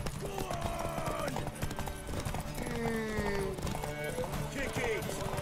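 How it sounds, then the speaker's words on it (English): Horse hooves clip-clopping at pace during a story-mode horse race in The Witcher 3, a steady game gallop under background music with English game dialogue and a Chinese-speaking voice over the top. "剧情中的第一次骑马比赛"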